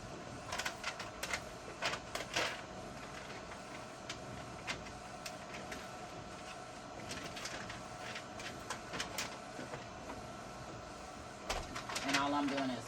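A DTF printer prints transfers in unidirectional mode, giving a steady low mechanical hum punctuated by repeated clicks and carriage taps throughout, fairly faint and continuous.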